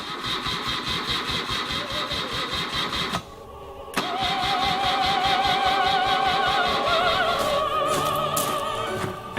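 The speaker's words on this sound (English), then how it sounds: "Let's try engine start on." A motorcycle engine with a fuel supply fault cranks with a rapid chugging rhythm, stops briefly, then turns over again loudly, running rough and steady up close.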